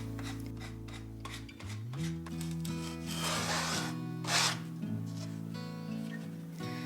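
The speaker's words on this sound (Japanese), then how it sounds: "火の切り口にヤスリをかけて滑らかにします" A cut end of wood being smoothed with a file, heard as close rasping strokes that swell and fade in an uneven rhythm over a low steady hum, with no speech.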